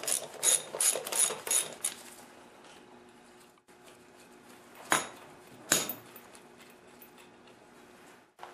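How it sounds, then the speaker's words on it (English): A ratchet with a 1/2-inch socket works loose the wheel bolt of an MTD snowblower, giving a quick burst of close ratcheting clicks at the start, then a quiet stretch broken by two short isolated clicks. "You're going to need a ratchet with a 1/2-inch socket."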